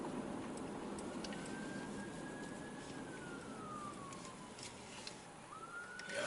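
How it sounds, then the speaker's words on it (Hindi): An ambulance siren wails steadily over a continuous wash of traffic noise on a foggy day in Mississauga, its tone drifting slowly lower as it moves past at moderate distance. "ये दूसरी जो है ना एम्बुलेंस जा रही है"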